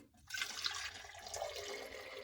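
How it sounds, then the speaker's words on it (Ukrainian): Filtered water pours steadily into a glass jar for about two seconds, a continuous close splashing stream that starts after a brief quiet moment, with no talking. "я налью в цей раз воду після фільтру"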